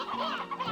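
Chickens clucking in Slime Rancher 2, a short burst of busy, overlapping fowl calls, close and fairly loud with no talk over them.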